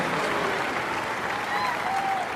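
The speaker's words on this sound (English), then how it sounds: "Another round of applause for Mr. Andrew Bowden from St. Louis, Missouri, and his fan club here in the Southeast section." Crowd applause at a marching band's Skull Session gathering, saluting Andrew Bowden of St. Louis and his fan club in the Southeast section, continuous and full with faint whistles mixed in.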